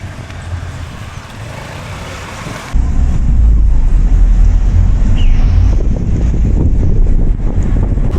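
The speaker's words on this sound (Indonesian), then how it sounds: "Angin-angin sepoi-sepoi gitu." A breeze blows through a park in Costa Rica, a rough, steady rushing that swells abruptly into heavier wind buffeting partway through, with no talk.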